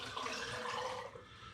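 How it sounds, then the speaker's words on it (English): Vimto-flavoured hard cider pours steadily into a hydrometer jar, a continuous soft splashing stream of liquid heard up close and fairly faint. "So I'm just going to pour this into my hydrometer jar."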